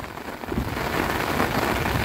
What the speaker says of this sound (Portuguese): Muita chuva no momento,